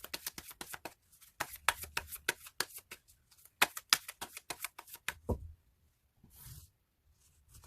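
Tarot cards shuffled by hand in quick bursts of crisp riffling and slapping, close and clear, then a short pause and a softer card draw near the end, with no talking.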